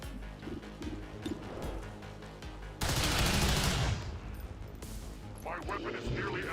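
Gunfire in XCOM 2 erupts as a loud burst of rapid shots lasting about a second, followed by scattered sharper cracks, with game music and a voice talking before and after.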